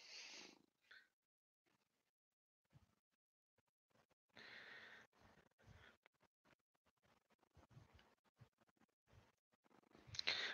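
A cat purrs close by in soft, intermittent bursts with quiet gaps between them, and a louder rustle comes at the end.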